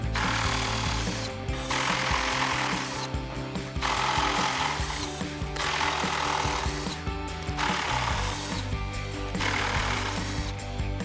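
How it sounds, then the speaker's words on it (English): A power tool drives out 10mm screws from the upper grille trim of a 2019-2024 RAM 2500 truck. About five loud, close bursts of buzzing, rattling whir are separated by short pauses. "we're gonna also remove these forward 10mm screws up front so we can remove our"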